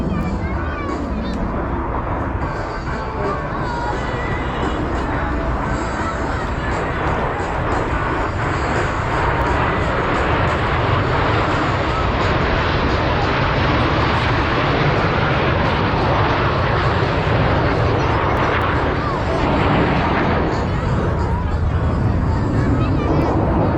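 Four Blue Angels jets flying in tight diamond formation pass at an airshow in Dayton, their engines a steady, loud roar that persists throughout, with crowd chatter faintly underneath.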